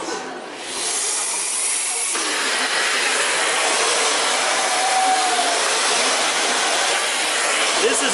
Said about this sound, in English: Let's just vacuum with it a little bit.